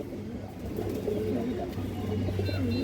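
Domestic pigeons, including ring-eyed birds, coo in soft, low, rolling calls that carry on steadily throughout, close by, over a faint background hum.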